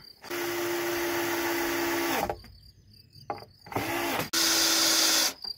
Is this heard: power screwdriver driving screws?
yes